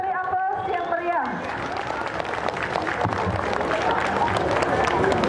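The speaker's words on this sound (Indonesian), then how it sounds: "Kita beri aplaus yang meriah." An audience claps at an ogoh-ogoh parade. A voice speaks first, then applause rises over crowd noise and grows steadily louder.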